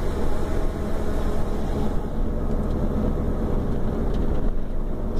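A truck accelerates out of a curve on the Serra do Cadeado mountain road in Paraná, its engine a steady loud drone with road and wind rumble throughout, close and continuous with no talking.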